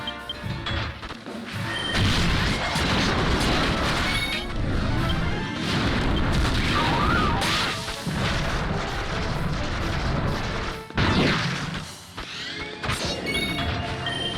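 Cannon fire in the video game Dragon Quest X, heavy booming blasts and crashing impacts repeating over a dense, loud battle din, with no voices.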